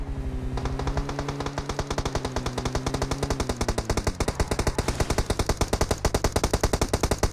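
Sustained automatic gunfire in the mobile battle royale game PUBG Mobile, a rapid, evenly spaced stream of loud shots running the whole time, with a steady engine-like drone underneath that fades partway through.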